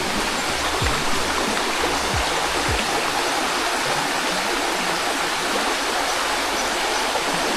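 A river on a rural property in Atimonan rushes steadily and loudly, a continuous broadband roar of flowing water with no break throughout.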